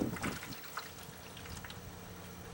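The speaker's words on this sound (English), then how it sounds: "Pour it out nice and slow." Muriatic acid is poured slowly over a steel pipe to remove mill scale outdoors, giving a faint, steady liquid trickle and splatter that runs throughout.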